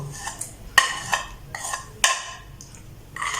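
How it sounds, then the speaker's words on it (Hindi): A spoon beating a potato mixture with salt in a bowl, irregular clinking and scraping strokes, about six distinct metallic knocks against the bowl with quiet gaps between. "और आधी चम्मच और अच्छी तरह बीट कर लेते हैं"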